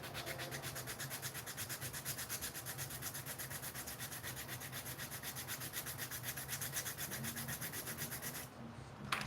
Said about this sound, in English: I'll have to go and sand it again with some finer sandpaper.